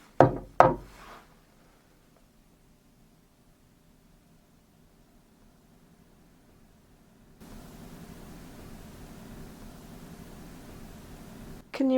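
Two sharp knocks on wood in a tearoom during a ghost hunt, close and distinct, then a long quiet stretch, a soft steady hiss, and one more knock at the very end.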